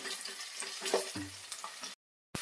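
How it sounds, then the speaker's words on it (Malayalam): Finely chopped ginger fries in a pan with a steady close sizzle and a few stirring clinks. It cuts to silence for a moment before the sizzle returns briefly, with no voices. "നന്നായി ചെറുതായിട്ട് അരിഞ്ഞ ഇഞ്ചിയും നമ്മൾ ആവശ്യത്തിന് അനുസരിച്ചുള്ള സാധനങ്ങൾ വേണം എടുക്കാൻ ഇത് നന്നായിട്ടൊന്ന് നമുക്കൊന്ന് ഫ്രൈ ചെയ്തെടുക്കണം"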